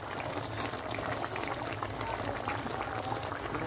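Salmon simmers in red coconut curry milk, a continuous close bubbling and sizzling that stays steady throughout with no talk.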